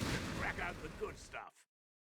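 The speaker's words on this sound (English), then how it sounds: "zeroing artillery comes in on the Matilda" Artillery shells pound a Matilda tank in the Company of Heroes 3 video game, a dense, loud rumble of overlapping blasts lasting about a second and a half before cutting off abruptly, with a voice partly mixed in.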